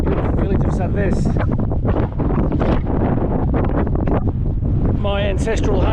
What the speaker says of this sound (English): You probably can't hear me because of the wind.